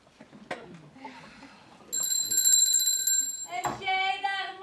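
A bright, sustained electric bell rings loudly, then a second ringing tone with a warbling quality follows, with a voice speaking faintly beneath.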